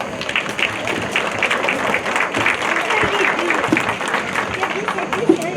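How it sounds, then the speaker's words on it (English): A crowd at a junior livestock show gives a round of applause, with sustained dense clapping at moderate volume and a murmur of voices mixed underneath. "give them a round of applause for all the work they do for you"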